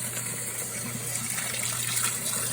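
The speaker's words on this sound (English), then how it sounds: "I'm gonna go ahead and drain out this icy water." Icy water pours out of a cooler as it is drained, a steady continuous gush of liquid running at an even level with no voices over it.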